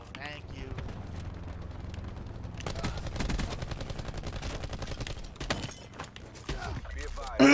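Rapid automatic gunfire in Call of Duty Black Ops 4 multiplayer, close and loud, with clustered bursts through the middle and a sharp final shot.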